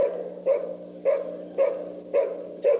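Bulldogs in a kennel yard bark in a steady, evenly spaced series of five deep woofs, loud and close with no talking over them.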